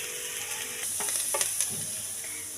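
Filling for kozhukatta frying in a pan until lightly browned, a steady close sizzle with scraping stirring strokes running through it and no talk.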